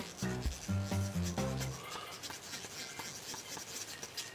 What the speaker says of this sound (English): Makes a satisfying noise, like a zipper being pulled